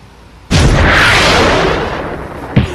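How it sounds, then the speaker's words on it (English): Rocket shoes fire with a sudden loud blast that swells into a long roaring rush, then a second sharp burst near the end, all close by. "Rocket shoes, I have rocket shoes and you don't."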